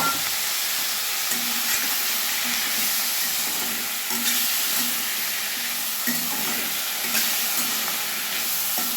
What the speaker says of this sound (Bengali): সবজিগুলো দিয়ে আমি 2-3 মিনিট মতো আমি একটু কষে নেব, ভেজে নেব